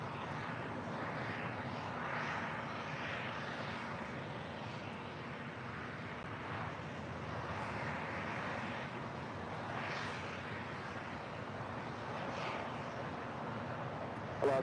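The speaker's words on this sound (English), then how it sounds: "This is Delta Airlines 8886 coming in from Denver on a 757-200." A Delta Airlines Boeing 757-200 sports charter arriving at LAX from Denver makes a faint, distant, steady jet roar that holds evenly throughout without clear peaks.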